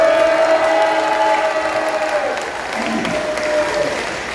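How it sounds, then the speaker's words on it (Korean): Loud, steady applause from an indoor audience welcomes a speaker at a Korean church leader's press conference, a continuous close clatter of many hands lasting several seconds with slight crowd murmur beneath. "자, 박수로 환영해 주십시오."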